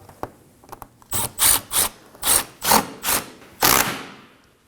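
A 10mm bolt on a 2014-2020 Acura MDX front bumper is snugged up with a ratchet. Several close, sharp bursts of ratcheting clicks follow in quick succession, each a second or less, with a few faint ticks before them.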